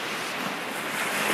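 Sea waves wash ashore in a brief, continuous rush of surf, close and fairly loud, with a little wind noise and nobody speaking.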